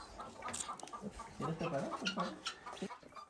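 Chickens cluck on a farm property, with several birds making overlapping short clucks and squawks close by, mixed with some background chatter.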